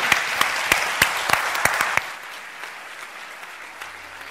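Audience applause after a panel discussion, with sharp separate claps for the first two seconds, then dying to a quiet room hum.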